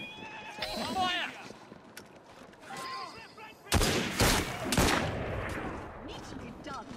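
Gunfire salvo in Assassin's Creed Syndicate: a sudden loud burst of shots crashes in after a quiet stretch, followed by a second volley and rumbling echo, with horse whinnies, hoofbeats and voices heard earlier.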